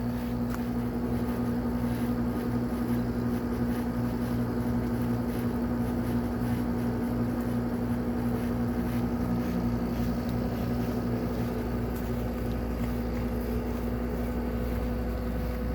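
An Amana Cool Zone high-efficiency air conditioner with a Tecumseh rotary compressor hums at a steady, constant drone close by, an even low mechanical tone with fan noise and no talking.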